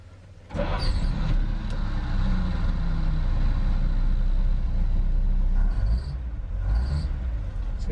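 A Chevy 3600 truck engine catches after cranking and settles into a loud, steady idling rumble with a thin high whine above it, easing slightly near the end.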